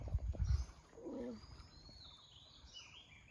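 A bird near water gives a brief, faint cooing call after a few dull knocks, then low ambient quiet.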